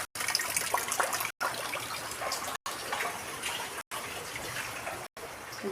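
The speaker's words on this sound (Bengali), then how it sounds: "বৃষ্টি দিচ্ছে, এত বৃষ্টি দিচ্ছে।" Rainwater pours steadily across a flooded home courtyard during heavy rain, a continuous near splashing rush broken by a few brief cuts, with no voices over it.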